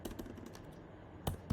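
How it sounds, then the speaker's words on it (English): Computer keyboard typing in a terminal, a quiet run of quick soft keystrokes that pause briefly, then a couple of sharper louder key presses at the end. "come into my terminal, and here I will type sudo"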